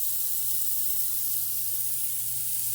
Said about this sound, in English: Enjoy the sizzle.